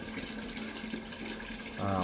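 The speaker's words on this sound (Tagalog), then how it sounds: "Pupunin lang natin itong isang balde." Water from a coin-operated vending machine pours into a bucket with a soft, continuous splashing hiss, then grows louder and fuller near the end; a voice speaks faintly underneath.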